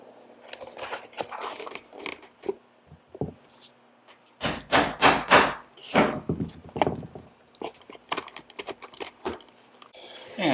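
A hammer strikes a leather punch in a quick run of sharp, close knocks, with scattered lighter taps and handling noises around them.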